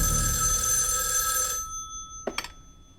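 A telephone bell rings loudly and continuously for about a second and a half, then cuts off, followed by a couple of short clicks as the receiver is picked up.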